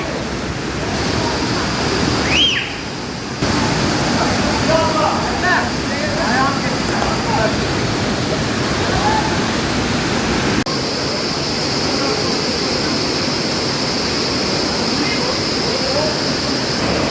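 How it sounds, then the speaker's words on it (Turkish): Galgamaç waterfall in Kahramanmaraş roars as a steady broadband wash of falling water, close and continuous, with a short drop partway through and some faint voices or birds under it. "İşte doğa yürüyüşümüzün sonu. Galyamaç şelalesi."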